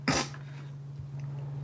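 A single short cough near the start, then quiet room tone with a steady low hum.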